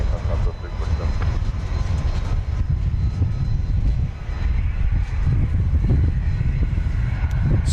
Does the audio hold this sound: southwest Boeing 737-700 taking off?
yes